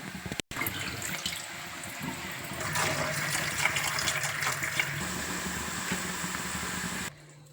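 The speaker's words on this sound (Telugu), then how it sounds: "ఇప్పుడు ఈ నీళ్ళు తీసేసి మళ్ళీ ఫ్రెష్గా కడుక్కుందాం" Tap water runs steadily into a sink as raw chicken, soaked an hour in salted water, is rinsed fresh for chicken dum biryani; a continuous close splashing wash with no talk, ending abruptly.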